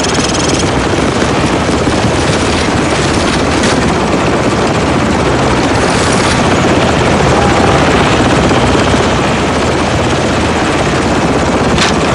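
A helicopter in the Call of Duty 4: Modern Warfare video game roars loud and steady with constant rotor and engine noise throughout, dense and unbroken, with no talk over it.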